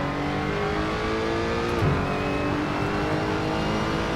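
A Lotus 98T Formula One car in the racing game Assetto Corsa holds a loud, steady high-pitched engine drone, dipping briefly in pitch midway before climbing again, with no one talking.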